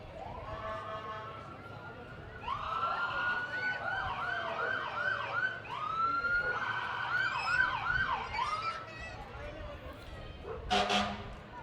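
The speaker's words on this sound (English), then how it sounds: "we're excited to have an RCMP cruiser with us" An RCMP police cruiser siren sounds during a community parade, wailing and yelping in rising and falling sweeps at moderate distance, with a dog barking and a short horn-like blast near the end.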